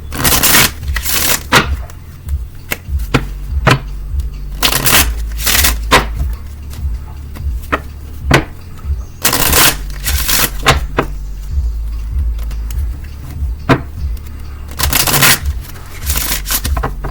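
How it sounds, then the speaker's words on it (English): Tarot cards being shuffled and pulled from a deck, a run of sharp close riffling and slapping bursts in an irregular rhythm, loud and alone with no talk. "I'm going to start pulling cards"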